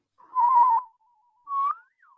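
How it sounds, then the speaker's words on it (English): A person attempts to whistle, producing two clear, fairly loud tones separated by a pause, the second bending upward before a faint trailing note, with no talking. "It's Team Skeptic trying to whistle."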